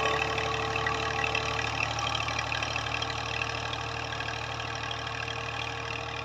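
A farm tractor engine runs steadily at idle on agricultural land in Punjab, a continuous low mechanical drone with a faint knocking rhythm, close and unbroken throughout with no talking.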